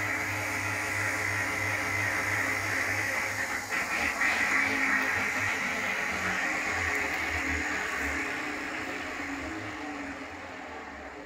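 A honey extractor spins acacia honey, a steady mechanical whir with a broad rushing hiss and low hum that holds evenly for a while, then slowly fades as the drum winds down.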